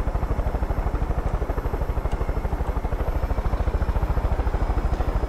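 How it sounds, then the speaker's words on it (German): A helicopter in the game Far Cry 5 beats its rotor in a fast, even, close rhythm, loud and continuous from start to finish. "Wollen wir das Ding nicht irgendwo abstellen eigentlich? Den Hubschrauber?"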